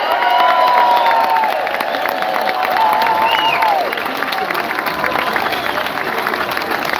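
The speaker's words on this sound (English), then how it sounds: "Let's give a big cheer that they're getting here in Madrid" A big outdoor crowd at a Gibraltar National Day rally in Madrid cheers and claps in a steady, sustained roar. Scattered shouts and whistles rise above the wash throughout.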